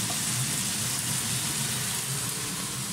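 Salmon pieces sautéed with ginger in a pan give a steady, dense sizzle that stays even and close throughout, with no talking.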